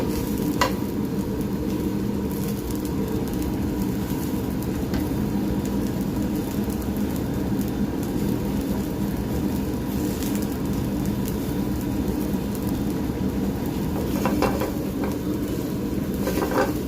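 Spam sizzles steadily in a frying pan as it lightly browns, a loud continuous hiss with occasional scraping clicks of stirring, no voices.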